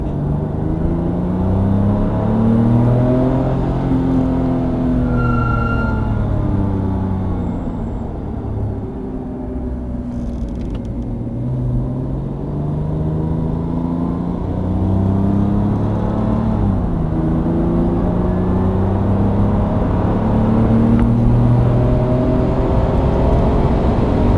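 Car engine on a track-driving course: a loud, steady rev that rises and falls through gear changes, holding near throughout with no talk over it.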